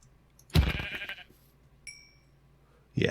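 Sheep bleating in the Minecraft SevTech Ages modpack, a loud, close bleat followed by a shorter, fainter call and a third bleat starting at the end, separated by near silence.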